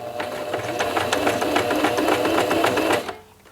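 A sewing machine runs steadily, stitching elastic onto a crocheted thigh-high leg warmer with a rapid, even mechanical rattle close by, then stops abruptly near the end.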